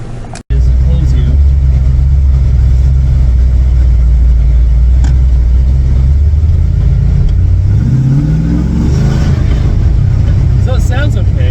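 A Land Rover Defender 110 engine with a smoking motor runs at a steady, loud, low rumble close by, with a shift in pitch partway through as it revs or pulls away, while someone talks over it.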